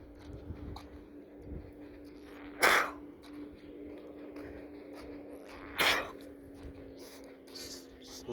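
Two sharp, loud sneezes from one person, a few seconds apart, over a low steady background hum, alone without talk.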